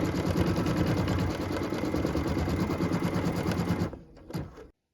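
Embroidery sewing machine stitching a placement line in dark green jade thread for a Christmas tree skirt, a fast steady mechanical whirring rattle that runs close and loud for about four seconds, then stops with a few soft clicks.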